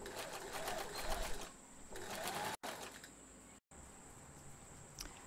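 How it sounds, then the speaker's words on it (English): A domestic sewing machine stitches bias binding onto a woollen jumper, a quiet steady whirring run with brief stops and restarts. "so that I sew straight over the top."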